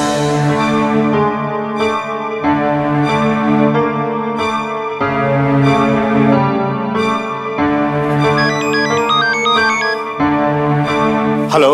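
A telephone rings during an outgoing call in a repeating melodic tone pattern, with bursts returning every couple of seconds and a brighter warble near the end.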